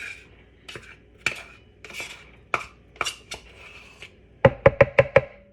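Almond butter spooned into a blender, with metal spoon scrapes and clinks against the container spread across the first seconds, then a quick run of five sharp taps close together near the end.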